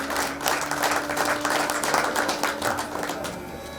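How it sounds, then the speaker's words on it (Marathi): Loud, dense applause from an audience at a depot staff get-together and award presentation, a steady wash of many hands clapping that holds for about four seconds with no speech over it. "जोरात टाळ्या"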